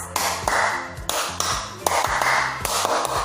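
A kindergarten teacher's hand-clapping pattern is played louder: sharp, close claps land in a steady repeating rhythm, each group separated by brief gaps, with a low background tone underneath.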